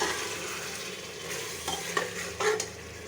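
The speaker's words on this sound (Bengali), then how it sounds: "এই মাংসটা কষানো হয়েছে" Beef braising for khichuri sizzles steadily in a hot pan while a spoon scrapes and stirs it, with a few sharper clinks of utensil on metal near the end; close and alone, no talk.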